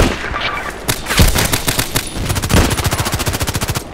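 Rapid bursts of AS VAL suppressed rifle fire in the shooter game Contract Wars, loud and close, with dense rattling volleys that end in a steady run of evenly spaced shots.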